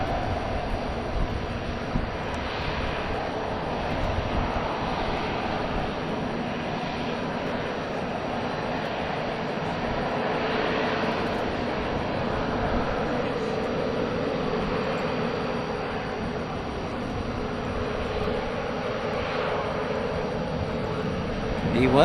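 Airbus A380 airliner jet engines at a busy airport give a steady, broad roar that holds at an even level throughout, heard from some distance.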